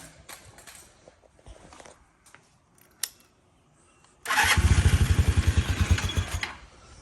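A Honda Quicksilver moped engine cranks and catches after sitting unused since 1986, followed by a loud, close, fast chugging idle that runs steadily for a few seconds before easing off slightly.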